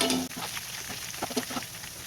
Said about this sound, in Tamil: இந்த மாதிரி நல்லா வந்து பொரிச்சு எடுத்துப்போம்